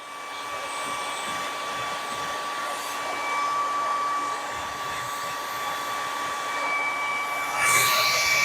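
A hot air blower runs close and steady, blowing to stir up dust on a custom Ghostbusters Neutrona Wand prop, with a constant loud whine and hum and a brief rushing burst near the end.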